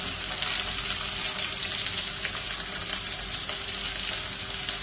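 Onion and curry leaves sauté in a pan for a curry, making an even, close-up sizzle of hot oil that carries on steadily throughout with faint crackles and no speech.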